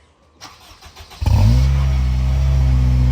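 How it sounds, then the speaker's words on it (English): An Acura RSX Type-S fitted with an HKS Hi-Power exhaust cranks with a few starter whirs, catches and fires up, then settles into a deep, steady idle rumble close to the microphone. "Kalli's gonna start it up."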